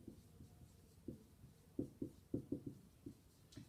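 Marker or chalk writing on a board while a torque diagram is drawn, heard as a series of quiet, irregular scratchy strokes and taps, clustered in short bursts with pauses, close and faint, no talking.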